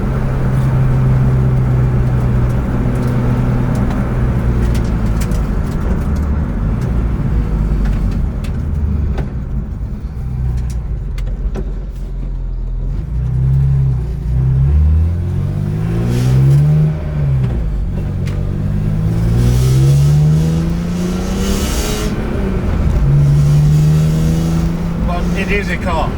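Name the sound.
BMW E46 M3 track car engine revving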